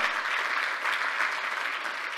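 An audience in a church service claps with light, quick golf claps, a dense steady patter of many hands filling the whole moment with no voices over it.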